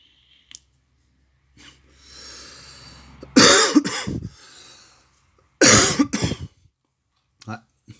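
A person coughs in two harsh, loud bursts a couple of seconds apart, with throat clearing, breathing and small clicks in the quiet gaps.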